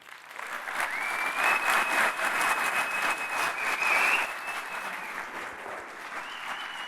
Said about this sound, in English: please give absolutely massive round of applause to my friend Erway